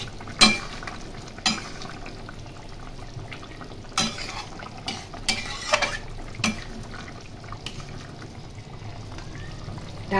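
Hilsa fish and ridge gourd curry cooking in a pan over a low flame: a steady soft simmer and sizzle with occasional clinks and scrapes of a utensil against the pan, close by, with no voice.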